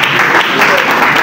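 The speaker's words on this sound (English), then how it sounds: "Please a round of applause for him again. Everybody clap now." Applause and clapping from a church congregation honouring a guest at an album launch, dense and loud throughout with voices mixed in.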